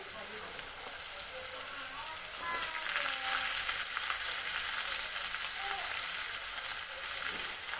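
Long beans sizzle steadily in a hot pan with cooked tomatoes, a bright crackling hiss that swells slightly partway through, with faint voices underneath.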